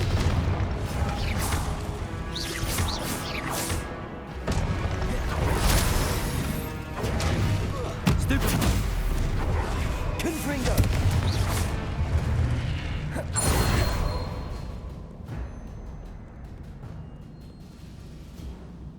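Confringo blasting spell explosions in the video game Hogwarts Legacy, repeated heavy booms and crashes in a loud, continuous battle that thins out toward the end, with brief voice under the action.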